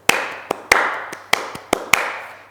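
One person's hands clap about seven sharp, close beats in a tight rhythmic cadence, imitating classical concert applause in threes, with a quiet room between claps.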